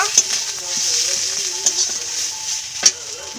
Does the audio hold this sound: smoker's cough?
no